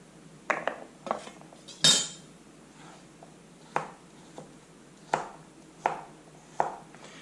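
A knife with a 6,000 grit edge slicing through a mule deer neck roast, a series of sharp, separate splitting cuts spaced about a second apart, close and clear with no voices.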